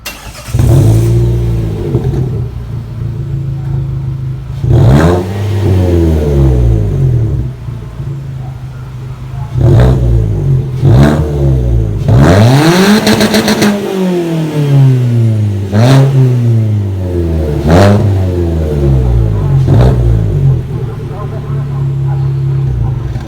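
A Renault Sandero RS engine revs repeatedly in loud rising and falling bursts, with a raw, rumbling exhaust tone from an exhaust without its rear muffler, close by.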